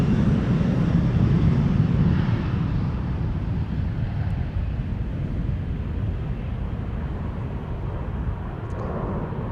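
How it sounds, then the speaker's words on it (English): A Cathay Pacific Airbus A350-1000 departs Amsterdam Schiphol Airport, a distant broad jet rumble that is loudest at first and then slowly fades, with no voices. "Combo shot with the Cathay Pacific A350 1000 to Hong Kong"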